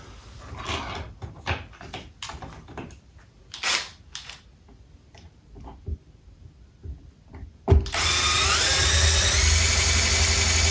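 A cordless power drill drives screws into the mounting plate of a hardwired smoke detector, a short burst after scattered clicks and handling knocks, then a steady loud whir that runs to the end.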